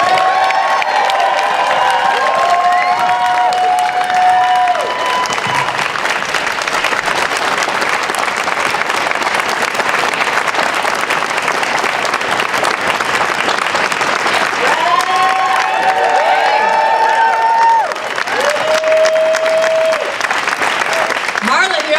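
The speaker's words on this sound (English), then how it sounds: "Please give a warm round of applause for Olivia Chow." Sustained loud applause from a large crowd, steady clapping with scattered cheers and shouts rising over it for the whole stretch.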